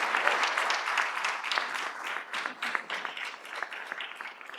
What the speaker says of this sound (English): Can we give him a round of applause for that,